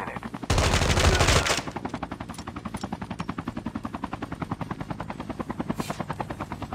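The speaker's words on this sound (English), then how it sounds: "Oh my god, a helicopter!" A helicopter in a Call of Duty Mobile battle royale match thuds with a fast, steady rotor chop that runs the whole time, cut early on by a brief loud burst of noise.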